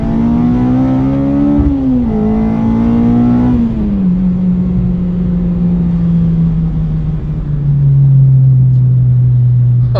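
A Honda Civic Type R EP3 engine drones loudly on track through VTEC, its steady tone stepping down at a couple of gear changes and then sinking slowly as the revs fall.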